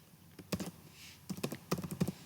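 Typing on a computer keyboard while entering Prolog code, a few quiet clusters of crisp key clicks with short pauses, close and alone.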